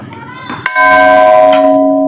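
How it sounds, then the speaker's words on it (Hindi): A very large bell hangs at a Sun temple and is struck twice, about a second apart. Each loud clang blooms into a long, bright, humming ring that sustains and slowly fades. Faint murmuring comes before the first strike. "एक बहुत बड़ा घंटा लगा हुआ है, जो आप देख सकते हैं। ये घंटा हम भी थोड़ा सा"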